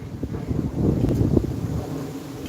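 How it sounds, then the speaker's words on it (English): Strong outdoor wind buffets the microphone in loud, low rumbling gusts that swell and ease over a couple of seconds, with no voices. "It's very windy out here."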